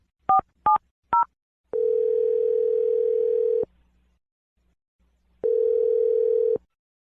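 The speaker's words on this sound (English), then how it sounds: "Let's dial the phone number right now." Three quick dialing beeps, followed by a steady telephone dial tone that holds for about two seconds, then a pause and a second stretch of tone.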